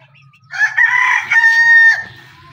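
A big rooster on a Pakistani village farm crows once, loud and close, a single drawn-out call lasting about a second and a half over quiet background.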